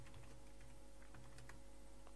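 Rapid typing on a computer keyboard, steady clicking keystrokes in quick bursts, close and fairly quiet over a constant background hum.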